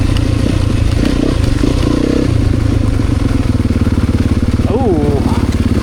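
An off-road motor vehicle's engine churns steadily during mud riding, loud and close throughout with a rough, pulsing drone and some clatter, while a brief voice cuts in near the end.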